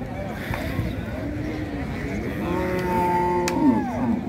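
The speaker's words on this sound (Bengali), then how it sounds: "হাটের এই অংশটাতে দেখবেন বাচ্চা সহ গাভী পাওয়া যায়।" A Holstein Friesian dairy cow with calf lowing at a Rajshahi cattle market, long drawn-out moos rising and falling over steady crowd chatter and background noise.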